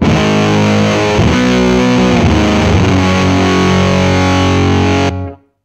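A heavily distorted, fuzzy electric guitar, played through a Noel Pedals Cornet Big Muff-style fuzz pedal, plays loud chords for about five seconds, then stops abruptly.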